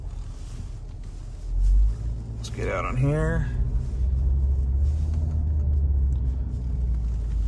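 A 2013 Ford Focus with a worn clutch pulls out onto a paved country road, its engine rumbling low and steady inside the cabin as someone speaks briefly over it.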